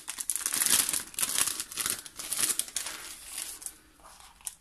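A crinkly plastic packet of paper die-cuts being handled and opened, rapid close crackling and rustling in bursts that fade toward the end, no talking.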